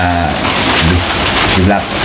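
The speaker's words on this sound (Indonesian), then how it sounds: "jadi kedengeran lah suara hujan di luar." Rain falling outside an open ventilation window, a steady dense patter heard from indoors, with a voice talking over it and brief bird-like cooing.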